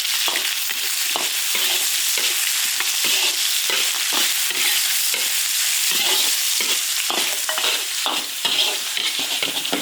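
Garlic and sausage stir-frying in an iron wok, loud steady sizzling broken by rhythmic scraping strokes of the spatula, close up with no talking.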